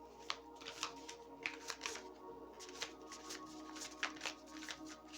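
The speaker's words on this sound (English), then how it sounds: "So, I'll pull a couple of cards." Tarot cards are shuffled and drawn by hand in a quiet room, producing soft, repeated riffling flicks and slides in an irregular rhythm, close and fairly faint.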